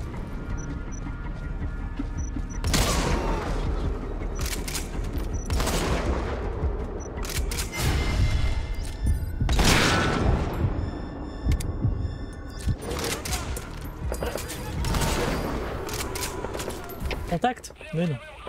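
Rifle gunfire in Metal Gear Solid 5, with several loud sharp shots and bursts spread across the stretch, separated by quieter gaps of game ambience.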